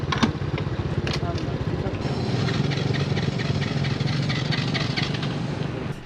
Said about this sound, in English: Hear that fast-paced cranking?